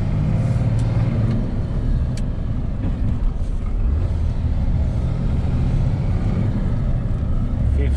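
A MAN TGM 15.250 HGV truck's diesel engine drones in a low, steady rumble heard from inside the cab, building gradually as it accelerates on the road.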